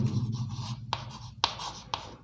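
Pen on paper writing notes about plaster of Paris, a few distinct close scratchy strokes with brief gaps between them, quiet and without talk.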